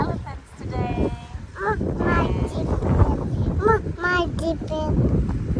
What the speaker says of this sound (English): It's so lovely here. Very windy.